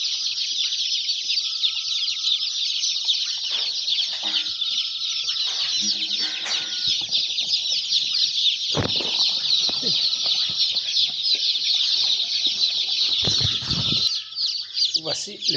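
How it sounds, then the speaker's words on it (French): A brood of young chicks about to be vaccinated peeps continuously in a dense, shrill chorus, with occasional soft clucks and brief handling thumps throughout. "Voici les poussins, voici nos poussins."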